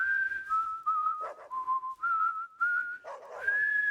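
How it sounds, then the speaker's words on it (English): A character in the video game Deadly Premonition 2 whistles a bright, wavering melody, held notes sliding up and down with brief breaths and gaps between phrases, close and clear with no talk over it. "He's like whistling the fucking Yoshi theme or something."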